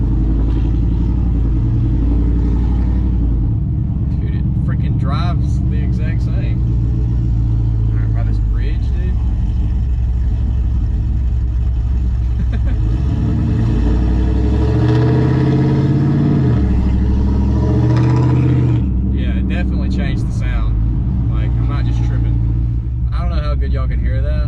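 A car fitted with a Chopacabra camshaft rumbles and revs while driving, its loud, choppy idle and low engine drone continuous throughout, with people talking over it.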